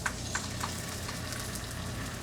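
Eggs frying in half a tablespoon of butter in a pan give a close, continuous crackling sizzle with small pops, fairly even in loudness throughout.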